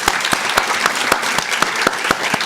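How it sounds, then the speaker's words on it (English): An audience at a keynote address for an occupational therapy program's 75th anniversary claps in a steady, even burst, with sharp individual claps standing out over the crowd's continuous applause. "That deserves a round of applause."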